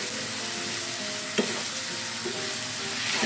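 Squid frying in a hot pan with leaves and spices, a steady dense sizzle with occasional stirring scrapes and one small knock, close up and without speech.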